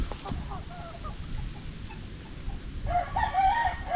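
A Sweater gamefowl rooster lets out one loud, clear crow toward the end, after a stretch of quieter clucking and low farmyard background noise.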